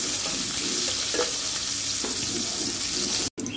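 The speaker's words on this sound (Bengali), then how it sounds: "পেঁয়াজগুলোকে আমি হাফ ফ্রাই করে নেব" Chopped onions half-frying in oil in a pot for a rohu fish curry with potatoes, a loud, steady close sizzle with light stirring scrapes and no talk.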